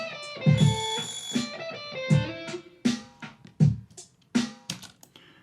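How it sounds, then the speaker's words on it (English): A recorded electric guitar track for a remake of a pop-punk song, played back alone: bright, effected guitar chords struck in a loose rhythm, each attack ringing out with distorted harmonics before the next hit. "All right, so we have the guitar recorded."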